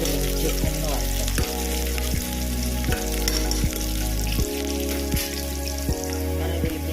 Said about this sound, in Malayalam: ചിക്കൻ ഈ എണ്ണയിൽ കടന്നിട്ടൊന്ന് ഒരു 5 മിനിറ്റ് ഒന്ന് വഴറ്റണം.